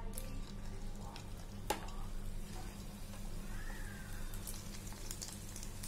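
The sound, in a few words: cheese balls frying in hot oil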